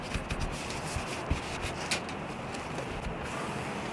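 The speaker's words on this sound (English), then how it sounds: "I'm also going to use a little brush to get into the crevices here, just to remove the compounding residue" A small brush scrubs compounding residue out of the crevices of moldy rubber car trim, giving a steady, close, dry scratching with a few sharper strokes and no talking.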